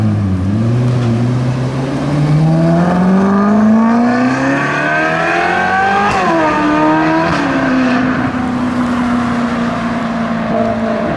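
A Ferrari's 4.3-litre naturally aspirated V8 with automatic gearbox, 453 bhp, revs up loud and close, pitch climbing in a long sweep, dipping with a shift, then holding a high, sharp wail.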